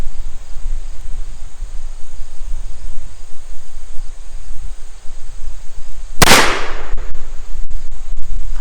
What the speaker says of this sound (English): pointing the barrel toward the sky and cocking the action, I had 4 out of the 6 chambers go the first time around